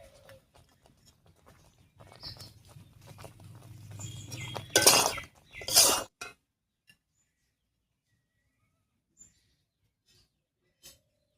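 A spoon clinks and scrapes in a pot as spice powder is mixed into amra (hog plum) pickle. Soft patter builds into two loud scraping bursts, then near silence with a few faint isolated clinks.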